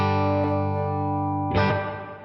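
Electric guitar played through a reverb effect on an AirStep-controlled pedal setup: a sustained, distorted chord ringing out, then a fresh strummed attack that blooms with a washy tail.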